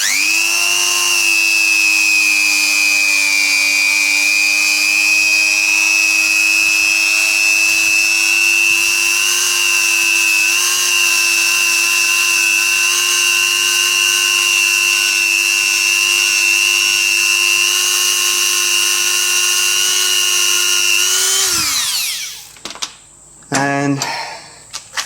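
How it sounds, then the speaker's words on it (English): A Dremel rotary tool spins at high speed, polishing a clock part with paste polish. It gives a loud, steady, high-pitched whine that holds for about twenty seconds, then winds down and stops, followed by a few faint handling clicks. "now with the Dremel"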